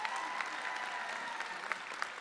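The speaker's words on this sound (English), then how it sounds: "let's give each other a round of applause" An audience at the 2013 Berkeley City College graduation ceremony gives a round of applause, steady, fairly faint and distant clapping with a few sharper individual claps standing out.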